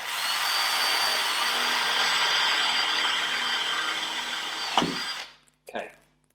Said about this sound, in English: So I'm finished with the drill.